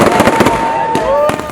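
Fireworks bursting over Upper Iweka in Onitsha, Anambra, during a Christmas celebration: a loud, close series of sharp cracking bangs with a whistling tone gliding through, dense crackle in rapid succession.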